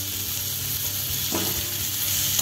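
Thinly sliced onions frying in hot oil for a duck egg roast give a steady, close sizzle, with a brief stirring scrape partway through.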